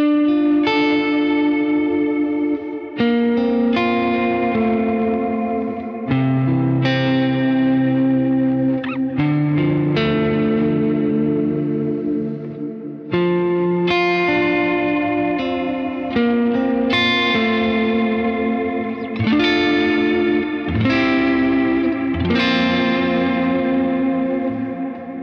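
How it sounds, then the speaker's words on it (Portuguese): Electric guitar through a heavily modulated room reverb pedal, set fairly high in the mix with a longish decay, playing a flowing sequence of shimmering chords and notes that wash and overlap without pause. "O segundo reverb também é o room, só que ele já tem bastante modulação, um pouco mais alto na mix e um pouco mais longo"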